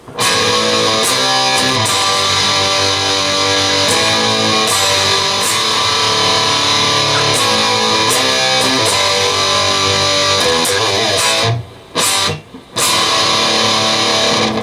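Heavily distorted electric guitar power chords ring out loud and sustained, with a brief gap of near silence before the riff hits again.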